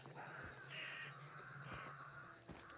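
A raven caws in the Hunt: Showdown video game, a few harsh calls ringing out over steady low game ambience with no talk.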